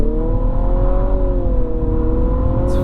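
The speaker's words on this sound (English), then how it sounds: "Turning now onto loose gravel." A 2022 Infiniti QX55 turns onto loose gravel, its engine holding a steady, close humming drone over a continuous low rumble from the tyres, with no voices.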